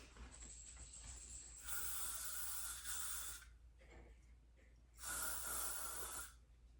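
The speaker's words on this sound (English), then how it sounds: "So you don't need a lot, just a light spray." Two short bursts of unscented hairspray misted lightly onto wavy, curly hair during a styling routine, each a close, steady hiss lasting a second or two with a quiet gap between them.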